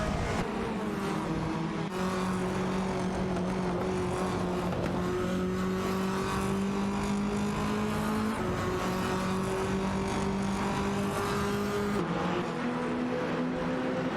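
A Lotto Vesta and a Honda Civic RDO duel in a video game race, engines droning loud and steady with long sustained revving tones that shift pitch at gear changes, no talking.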